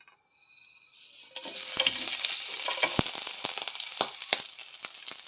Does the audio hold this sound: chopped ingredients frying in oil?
yes